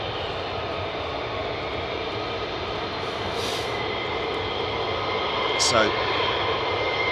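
F-15 fighter jets taxi out at RAF Lakenheath, a steady engine whine and rumble holding at a moderate distance, with a brief spoken word and a couple of short higher squeals partway through.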